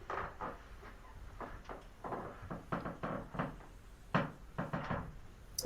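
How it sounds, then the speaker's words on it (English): Squeaky floor creaking indoors, a series of short creaks and knocks in irregular rhythm, each fairly close and moderately loud, with no talk over them. "So squeaky floor."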